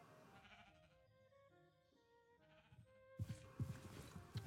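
Sheep bleating in RLCraft, a Minecraft modpack, with a few short bleats near the end over soft background game music and no talk.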